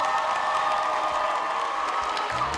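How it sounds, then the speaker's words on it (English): A crowd applauds and cheers for a third-place finisher at a 2014 jamboree, a dense, steady wash of clapping and shouts that fills the whole moment without a break. "A hand of applause,"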